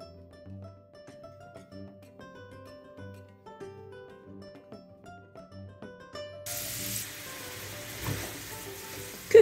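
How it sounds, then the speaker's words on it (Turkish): Meatballs frying in melted butter in a pan, a soft steady sizzle that stays faint beneath quiet background music at first, then turns louder and more open near the end. "Köftelerimizi tereyağımızla birlikte biraz kızartacağız."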